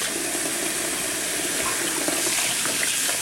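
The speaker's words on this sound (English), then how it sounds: "Running water." Tap water runs steadily over cabbage being rinsed for kimchi, a constant close hiss and splash that continues without a break.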